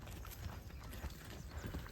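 A horse's hooves clip-clopping in a steady trotting rhythm during a ride at a village fair, faint and continuous, with no talk over it.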